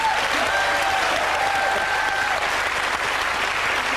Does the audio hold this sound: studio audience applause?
yes